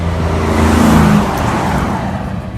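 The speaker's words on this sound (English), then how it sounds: "where that truck just came past" A truck passes on a steep road near a caravan accident site, heard as a loud, steady rumbling roar of engine and tyres that swells briefly and then holds a continuous broadband road noise.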